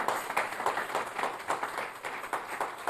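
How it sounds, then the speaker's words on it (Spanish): A church congregation applauds together in a steady, moderately loud wash of clapping that continues without a break and has no voices over it. "¿Por qué no lo prueba dándole un fuerte aplauso al que vive y reina?"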